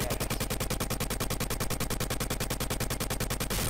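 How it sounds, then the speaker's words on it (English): A rapid, rhythmic chain of crackling bursts, an explosion sequence from the Sega game Dynamite Headdy, repeats evenly at a fast pulse, loud and synthetic, with no talk over it. "Now that's an explosion!"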